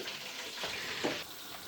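Chicken lollipops deep-fry in oil as a second batch, a steady close hiss of bubbling with faint stirring clinks, alone with no voices.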